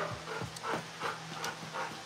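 Several dogs pant and shuffle about indoors, rhythmic close breathing bursts repeating roughly every third of a second with soft movement noise in between.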